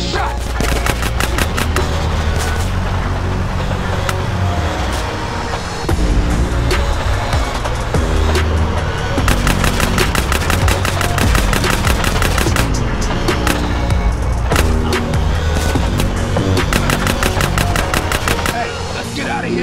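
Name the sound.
gunfire in video game GTA San Andreas drive-by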